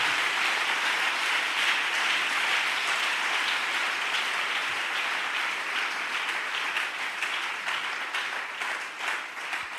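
A church congregation applauds and cheers in praise, a dense, steady wash of clapping and shouts that holds loud for about ten seconds, easing slightly toward the end.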